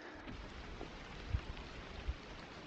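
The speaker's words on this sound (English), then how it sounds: "the rain's starting to come down a little bit harder" Rain falling on a hike at Mahoosuc Notch on the Appalachian Trail, a faint, steady wash of hiss throughout with a couple of soft low thumps.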